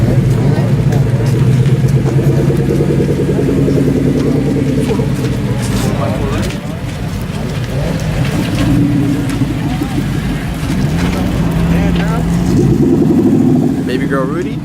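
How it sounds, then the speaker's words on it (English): Several cars roll into a large car meet, engines idling and revving at mid distance in a steady drone, with people talking over the engine noise. "There's cars over there coming in for it."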